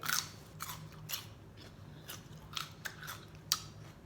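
Crunchy celery is bitten and chewed close up, with sharp crunches spaced irregularly over a quiet, faint background.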